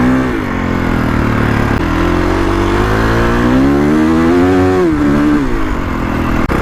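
2021 Kawasaki KX450X dirt bike ridden on a track, its engine loud and close, revving up and down steadily with throttle changes throughout.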